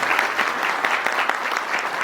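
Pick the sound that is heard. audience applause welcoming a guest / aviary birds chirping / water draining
audience applause welcoming a guest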